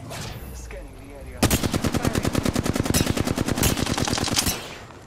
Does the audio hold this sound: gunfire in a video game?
yes